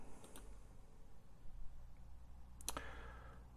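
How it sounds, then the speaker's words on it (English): A computer mouse clicked a few times, two quick close clicks near the start and another sharp pair later, over faint room hiss without talk. "we are going to click on download"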